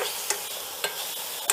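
Shredded cabbage frying in a pan for ragi idli gives a soft steady sizzle, broken by three brief scraping stirs of a spatula, with no talk.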